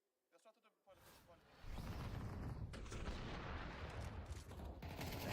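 Gunfire in a shooter video game, with a few sharp reports at the start, then a heavy, continuous barrage of shots and blasts that stays loud to the end.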